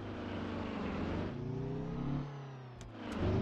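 A Mack truck engine in Grand Truck Simulator revs and drones steadily, its pitch rising and settling, close and loud throughout with no talk over it.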